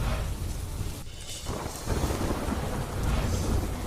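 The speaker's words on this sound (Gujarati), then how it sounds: "વડોદરામાં ધોધમાર વરસાદ." A heavy downpour in Vadodara, Gujarat, roars steadily and loudly, with low thunder rumbling beneath the dense rain and a brief dip midway.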